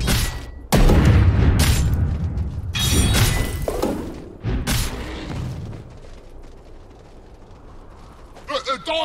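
A tower under attack in Dota 2 gives off loud impacts, shattering crashes and mechanical ratcheting in bursts, easing into a quieter rumble before brief sharp clicks near the end.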